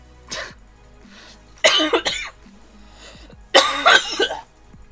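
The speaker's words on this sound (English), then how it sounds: "Coughing fit." Several harsh coughs come in bursts, one short cough followed by two heavier, raspy clusters, close and loud against a quiet background.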